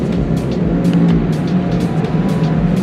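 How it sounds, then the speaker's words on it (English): Sport motorcycles such as an R6 and a CBR 600 ride by in city traffic, loud close exhaust rumble with repeated revs and passing surges over steady engine drone. "More bikes pulling up."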